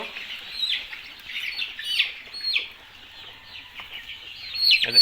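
Chickens being vaccinated against fowl pox cluck and chatter close by in a continuous flurry, with a sharper squawk near the end and no talking.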